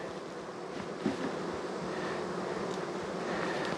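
Honey bees buzzing around an open hive outdoors on a cool autumn day, a dense continuous hum with some wind noise, steady throughout with no talking.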